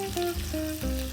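Steak frying in a pan with melting butter gives a loud, close, continuous sizzle with crackling spatter and a few brief scraping stirs.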